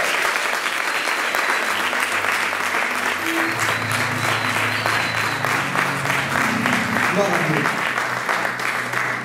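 A church congregation in Nantes applauds, steady dense clapping throughout with a low sustained musical tone and voices underneath.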